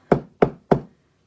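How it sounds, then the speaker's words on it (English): Three crisp, evenly spaced knocks on a door, close and clear, then silence. "He knocked on the door."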